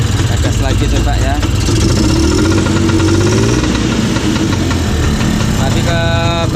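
Orange Bajaj three-wheeler under restoration, its dirty spark plug making it run rough, revs loudly up close with a steady, throbbing engine drone that swells and holds. Voices talk over the engine, and a brief tonal chirp comes near the end.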